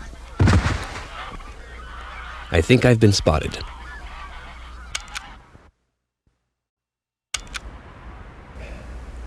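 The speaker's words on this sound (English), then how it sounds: "Please add the following sound to my master tape labeled Sounds. Canadian geese" Loud honking calls from Canada geese ring out in bursts, with scattered clicks and a brief spoken line, then a sudden gap of silence.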